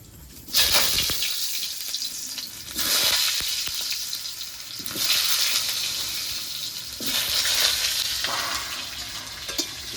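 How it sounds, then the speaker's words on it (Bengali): Potato pieces frying in hot oil for a meat curry give a loud, hissing sizzle that surges in four waves as they are stirred, with no talking. "এবার মাংসতে দেওয়ার জন্য আলুগুলো ভেজে নেব।"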